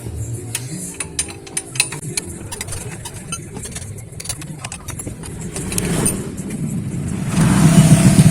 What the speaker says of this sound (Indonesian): Dan untuk membukanya pakai gunakan kunci 12.